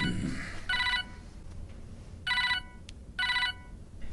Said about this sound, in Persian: نظام دین چرا به من زنگ میزند؟